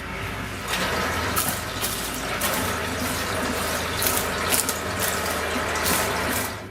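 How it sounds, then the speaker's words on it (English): Homemade burnt caramel is stirred into crunchy popcorn in a bowl, giving a steady, close rustling and crackling churn that continues without speech. "Now just get the caramel and pour it straight over. And then we just want to mix it in."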